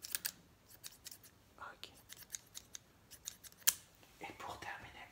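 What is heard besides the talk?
scissors snipping in an ASMR haircut roleplay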